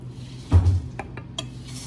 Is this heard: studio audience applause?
no